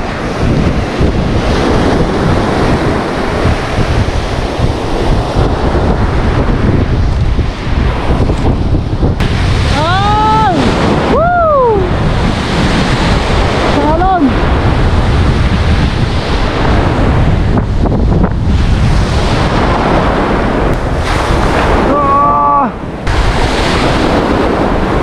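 Heavy ocean surf crashes and rolls continuously on a windy coast during the northeast monsoon, loud and close with strong wind buffeting the microphone and brief voices in between.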